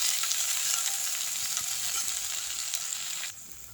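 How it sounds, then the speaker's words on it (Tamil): Thuthuvalai leaves sizzle steadily in a hot pan as they are lightly sautéed for a chicken chops dish, a close, continuous frying hiss that cuts down sharply near the end. "அடுத்து தூதுவலை போட்டுக்கலாம் இது லேசாக வதக்குவோம்"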